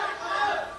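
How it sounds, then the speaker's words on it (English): Wrestling arena crowd roars in a dense, continuous swell of cheering voices, loud and sustained for under a second. "Listen to the crowd."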